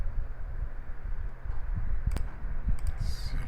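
A mouse clicks a few times while someone works on a SolidWorks assembly of a bottle-type screw jack, with sharp, faint clicks over a low background hum and no talk.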